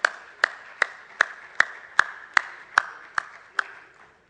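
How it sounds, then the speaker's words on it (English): Audience clapping for a speaker being introduced at an event, heard as a slow, evenly spaced series of about ten single sharp claps, moderately near, with no voices. "Please, ladies and gentlemen, with a huge round of applause, Mr. Shaji from Devji."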